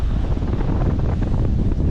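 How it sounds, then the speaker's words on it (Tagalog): Strong wind at sea buffets the microphone aboard a boat in the West Philippine Sea, in a continuous loud roar, with low rumbling gusts throughout. "grabe ang lakas ng hangin"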